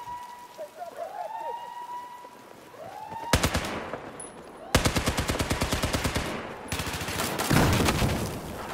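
Battlefield 4 gunfire in rapid bursts, loud and close, starting after a few seconds of game ambience and continuing in dense runs of shots with short gaps between them.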